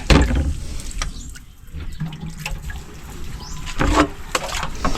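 Water from a deep-well hand pump splashes and runs while something is rinsed, with irregular gushes, drips and thumps of the pump close by.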